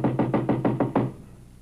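Six quick, evenly spaced knocks rap on a large white house's front door, close and firm, in an old radio drama.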